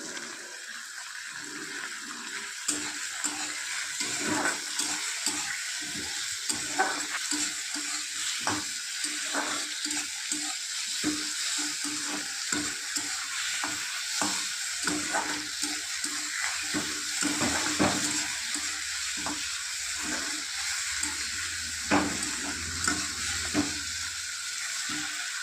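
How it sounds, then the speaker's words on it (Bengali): Tomatoes fry in a pan for chutney with panch phoron, bay leaf and dried red chilli, making a steady soft sizzle broken by frequent stirring scrapes and taps throughout. "এরপর টমেটোগুলো দিয়ে ভালোভাবে ভেজে নিতে হবে,"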